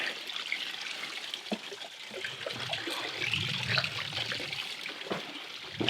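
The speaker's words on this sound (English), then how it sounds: "See that there's still flowing water out here." Water trickles and burbles steadily, like a small stream flowing over rocks, with a constant bright splashing texture and no voices.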